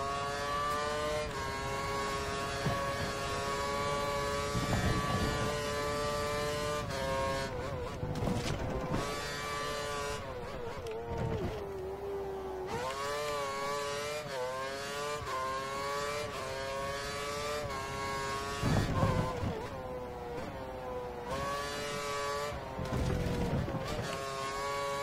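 Formula 1 race car engine in the F1 2013 video game during qualifying in Korea, a high, continuous whine that rises and falls through gear shifts and throttle lifts. It runs steadily throughout, with occasional commentary underneath.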